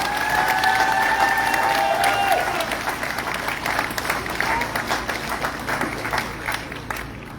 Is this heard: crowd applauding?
yes